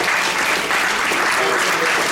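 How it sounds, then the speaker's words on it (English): An audience at an ethics lecture applauds the presenters with dense, steady clapping that fills the room, loud and continuous, with a voice faintly underneath. "Let's have a hand clap for the presenters."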